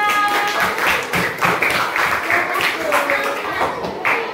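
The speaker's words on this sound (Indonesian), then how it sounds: "Tepuk tangan buat Aira." A group of children in a classroom claps in steady, scattered applause lasting several seconds, with voices murmuring underneath.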